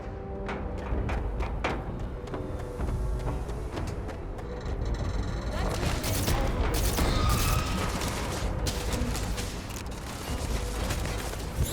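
Bursts of rapid gunfire ring out in the science-fiction game Starfield, with dense volleys of sharp shots over a rumbling mechanical background. The firing grows heavier partway through and is loud throughout.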